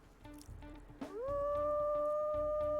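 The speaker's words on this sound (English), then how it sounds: "Oh, what a soft and gentle howl she has for her first." A wolf pup's howl in WolfQuest Anniversary Edition: after a second of quiet ambient game sound, a soft, smooth, sustained tone rises and holds steadily, loud and close, to the end.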